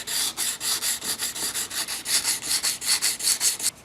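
Quick, regular back-and-forth strokes of fine-grit sandpaper, around 1500 grit, on a plastic part of a 2003 MIM Fender Stratocaster, bright, close scratchy rubbing repeated about five times per second.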